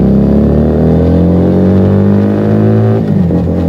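A Keeway SCR 250V motorcycle fitted with a Mavionic aftermarket exhaust roars past in a loud, close flyby, its engine note holding steady then dropping sharply in pitch as it passes at about three seconds, with no voices.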